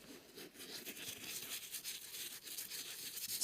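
A brush scrubs Nikwax cleaner into a boot, working it into a froth with a steady, quiet bristly rubbing that rises and falls in short strokes.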